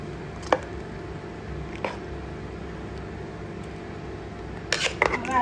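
Kerala-style purple yam and papaya curry is stirred in a pot, giving a few soft, scattered spoon knocks and scrapes against a steady low background hiss, with a brief cluster of clinks near the end.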